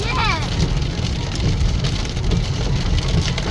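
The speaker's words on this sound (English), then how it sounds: "Raining as well." Rain pours onto a car during a road trip, a steady dense patter over the hum of the moving vehicle, with voices talking faintly underneath.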